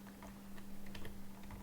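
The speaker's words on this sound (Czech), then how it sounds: "Já musíš bouchat tak do té klávesnice." Keys pounded on a computer keyboard during a Minecraft session, a quick irregular patter of clacks running steadily throughout at a moderate distance, with no talking.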